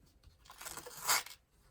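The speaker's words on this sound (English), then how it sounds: "We're going to take that tape off now just so it's not in the way." Strip of tape peeled off fabric in one quiet, close tearing rip that builds over about a second to a brief crackling peak and then stops, with no talk.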